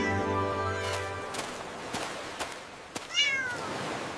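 A cartoon cat meows in an animated story, a short tonal cry followed by a rising, wavering meow near the end over a soft music bed.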